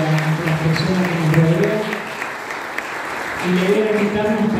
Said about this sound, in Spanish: Marce, Karina, a todos los chicos del CAEVA, se merecen un aplauso también